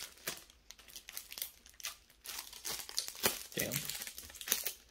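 Plastic packaging crinkles and crackles steadily as it is pulled open, a close, busy run of sharp rustles and crunches with no talking.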